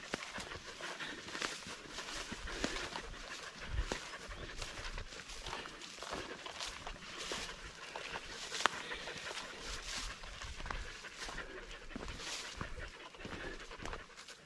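Dogs pant and move along a hiking trail in Isère, France, heard close but quiet as steady rhythmic breathing mixed with soft footsteps on the ground.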